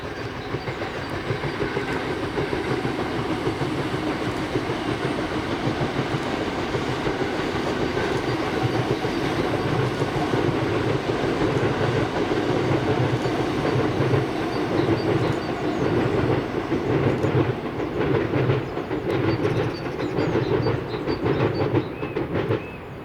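A Royal Mail mail train of three units passes over a viaduct, a loud sustained rumble with rhythmic clickety-clack of wheels growing more pronounced as the cars roll by.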